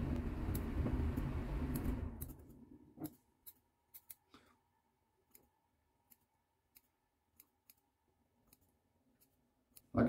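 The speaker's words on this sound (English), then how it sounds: "I'm gonna pull out my clippers and get my scissors" Scissors trim a beard close to the microphone. A dense rustle gives way to a run of sharp, isolated snips and clicks, spaced about every half second to a second against near silence.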